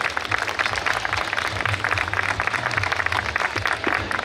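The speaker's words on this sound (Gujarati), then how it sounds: "જોરદાર તાળીથી મિત્રો વધાવી લેજો" Dense, steady applause from an audience at a Sandha family community gathering and honouring ceremony, continuous clapping throughout with a low hum underneath.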